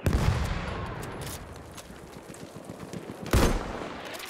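Bursts of gunfire in the shooter game Battlefield 1, a loud crack up front, a rattle of rapid shots through the middle and another heavy report near the end, with no voices.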